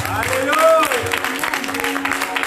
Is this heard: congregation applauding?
yes